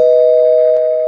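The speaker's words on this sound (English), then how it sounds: "if you want me to ring the spoiler bell, I'll do it." A spoiler bell sound effect on a comic book podcast rings as one steady, loud, pure tone that holds for about a second and slowly fades, alone with no talk over it.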